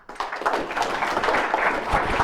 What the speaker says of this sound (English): let's have a big round of applause for Eric Oliver